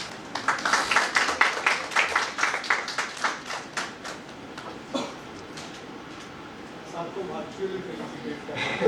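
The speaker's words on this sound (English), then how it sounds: "Please have a big clap to him." Applause at a technical workshop session on forest rights in Northeast India, a burst of hand clapping from a small audience that thins out over several seconds, with talk alongside it.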